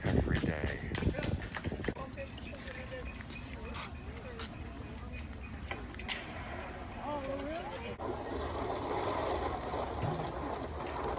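Horse hooves clip-clopping on a street on Mackinac Island, a series of faint distant hoof beats mixed with background chatter and ambient outdoor noise.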